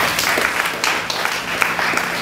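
A church congregation claps in praise, a dense, steady wash of many hands filling the whole stretch at moderate loudness, with no pauses.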